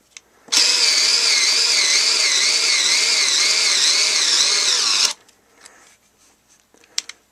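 A Genesis 7.2-volt lithium-ion two-speed cordless screwdriver runs at its low 200 RPM setting, giving a steady, close motor whine with a slight wavering pitch that lasts about four and a half seconds before stopping abruptly, then faint handling clicks.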